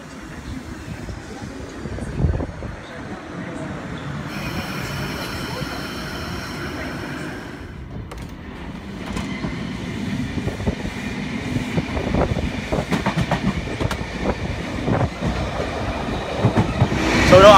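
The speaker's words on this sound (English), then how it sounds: "Of course I will take the train" A Sydney, Australia commuter train rumbles along the rails with rhythmic clickety-clack, heard from inside the car and growing louder toward the end.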